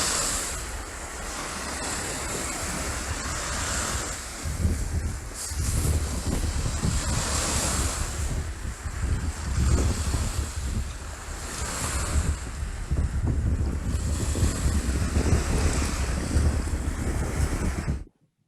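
Ocean waves and surf washing in continuous surges, loud and close, with wind buffeting the microphone and no voices.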